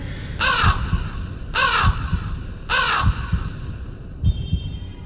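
A crow caws loudly and close by, three harsh rasping calls in even succession, each followed by a low thumping pulse, with a brief fourth sound at the end.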